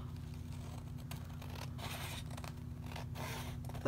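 Scissors snip and slide through dictionary page paper while trimming a junk journal envelope, soft close cuts heard over a steady low hum, with no talking.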